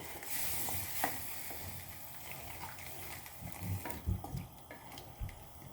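Water is poured into a sizzling pan of green tomato and katla fish chorchori curry, steady frying hiss with soft stirring scrapes and a few louder splashy bursts near the end.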